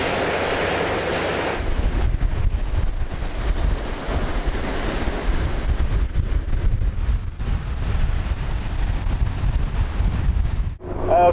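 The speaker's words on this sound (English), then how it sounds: "right here on the lake shoreline, it is windy, and I just can't believe there's waves rolling in just like at the ocean." Waves roll onto a windy lake shoreline in a steady, continuous surf wash, with heavy low wind rumble buffeting the microphone throughout and no voices.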